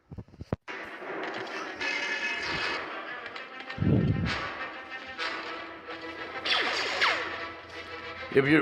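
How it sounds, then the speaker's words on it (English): Heavy blaster gunfire in the Star Wars: Bounty Hunter video game: snappy energy shots and bursts cut through game effects, with a deep boom partway through and whooshing sweeps later, all moderately loud. "So we're gonna go down and we're gonna suppress heavy fire on him."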